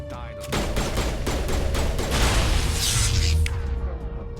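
Defensive turrets in the Mass Effect video game fire a sustained, dense barrage of rapid shots and crackling impacts, loud and continuous for several seconds before tapering off.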